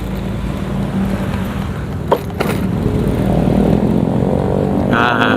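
Car and motorcycle traffic on a night road along the Kalimalang route between Cikarang and Bekasi, a loud steady engine and road roar heard from a riding motorcycle, with a brief sharp knock midway.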